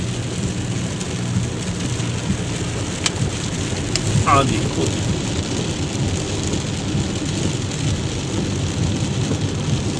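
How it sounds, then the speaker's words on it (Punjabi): Steady, dense heavy rain hissing over a low rumble near the airport in Brisbane, Australia, with a brief spoken remark partway through. "ਬੁਰਾ ਹਾਲ ਆ ਮੀਂਹ ਨਾਲ"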